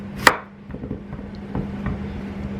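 A knife makes rough, rustic chops through potato and other vegetables for a beef sauce, landing as a few sharp close board knocks, one loud hit early and then softer scattered cuts over a low steady hum.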